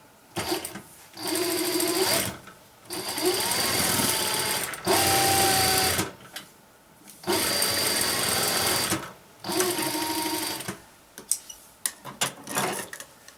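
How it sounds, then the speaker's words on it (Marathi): A sewing machine stitches thin single-layer cloth in several runs of fast, steady mechanical whirring, each burst lasting about one to two seconds and separated by short quiet gaps, close and clear. "एकदम पातळ कापड वापरणार आहे या कपड्यावर देखील आपण शिवून पाहणार आहे"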